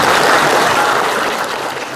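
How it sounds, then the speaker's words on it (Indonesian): Audience applause at a government event supporting small and medium industries in Kendal, a loud burst of many hands clapping that tapers slightly over two seconds, with no speech. "Tepuk tangan buat kita semua"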